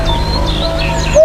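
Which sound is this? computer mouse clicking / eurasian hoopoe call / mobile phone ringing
eurasian hoopoe call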